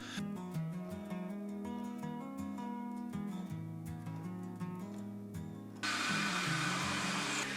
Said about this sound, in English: I'm ripping these down to about 5mm thick strips